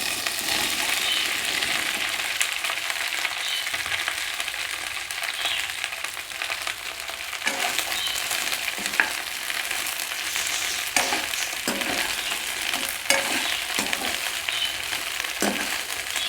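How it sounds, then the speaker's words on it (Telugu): Okra frying in a tablespoon of oil in a pan, a steady close sizzle with occasional scraping stirs breaking through, no voices. "1 టేబుల్ స్పూన్ ఆయిల్ తీసుకొని బెండకాయలు వేయించుకుందాం."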